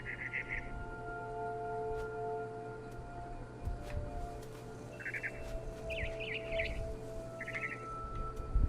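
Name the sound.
bird chirping in video game What Remains of Edith Finch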